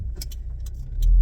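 Getting into a car: a few short clicks and rustles of a door and seat, then a low rumble as the car settles or the engine starts, close and fairly loud with no talking.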